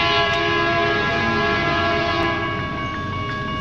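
Loud, sustained BNSF freight train horn, a recon-type air horn, sounds a long steady chord at close range over the rumble of the passing train at Kingman, Arizona.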